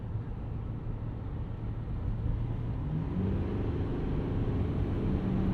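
A 2022 GMC Sierra 2500 pickup with a Duramax diesel engine pulls under hard throttle, a steady, dense low rumble that climbs slightly in pitch as it gains speed, heard from inside the cab with no one talking.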